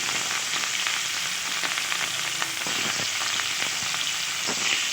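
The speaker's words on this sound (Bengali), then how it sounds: "এবার আমি মাছগুলো আস্তে আস্তে দিয়ে দিচ্ছি, দিয়ে ভালোভাবে মাছটা ভেজে নেব।" Pieces of rohu fish fry in hot mustard oil in a wok, giving a loud, steady sizzle with crackling pops throughout and no talking.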